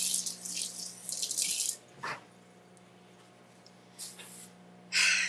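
Parsley rinsed under a running kitchen tap while cooking shrimp scampi pasta, a steady close splash of water in bursts with a short pause between them, alone without talk.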